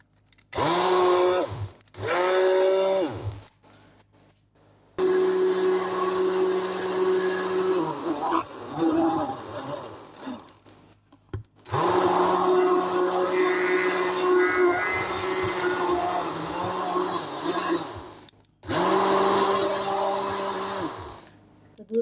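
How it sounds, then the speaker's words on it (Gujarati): A kitchen blender whirs in several bursts while mixing milk with chocolate, a steady motor drone starting and stopping with short pauses, loud and close. "તો આપણે બ્લેન્ડર ફેરવી લેશું આમાં।"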